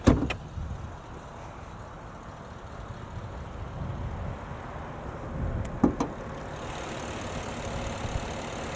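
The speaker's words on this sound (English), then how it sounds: "Let's pop the hood and look under at that 5-liter V8." The hood of a 2020 Genesis G90 with a 5.0-liter V8 is released and lifted. A sharp latch click comes at the start and a pair of clunks near the end, over a low, steady background hum.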